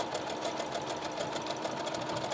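Sewing machine running steadily through a garment edge with fringe, a continuous close whirring stitch with no pauses and no talk.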